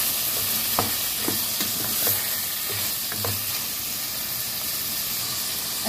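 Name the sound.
shrimp sizzling and being stirred in a pan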